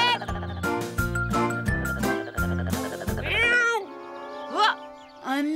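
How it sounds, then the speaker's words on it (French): Cartoon cat meows, several short high cries over a tinkling, jingly musical backing that fades out, leaving a few rising meows near the end. "Oh, un miaou. Je t'ai entendu miauler."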